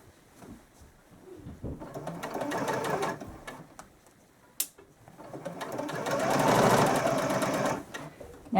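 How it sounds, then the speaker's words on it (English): A sewing machine stitches a zipper into a dress in two long runs of steady whirring, close and clear, with a brief pause between and a voice talking over it. "you just keep sewing straight"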